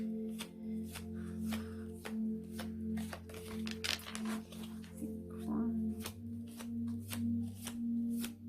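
A deck of tarot cards shuffled by hand, with repeated quick riffling flicks in a steady rhythm, close and fairly soft, over a low steady hum.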